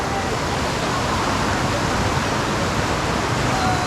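A constant, dense roar of rushing water fills the clip, loud and unbroken, from Kalu Waterfall and its river close by in Maharashtra.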